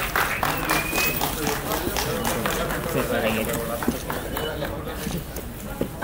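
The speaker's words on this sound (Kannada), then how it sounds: "ಜೋರಾದ ಚಪ್ಪಾಳೆ ಬರಬೇಕು ಎಲ್ಲರೂ ಕೂಡ" Crowd clapping at a film song and poster launch event, steady dense applause with scattered sharp claps filling the room, mixed with some chatter.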